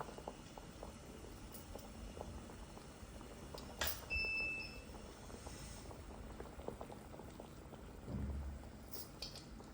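Salted water boils for biryani rice, giving a soft, steady bubbling hiss with faint pops, heard close and quiet, with a brief clatter near the middle and another near the end.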